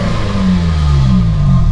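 A car engine revs steadily through a brand-new replacement exhaust with a smaller tip, a loud, close, continuous drone whose pitch sweeps down slightly over a couple of seconds.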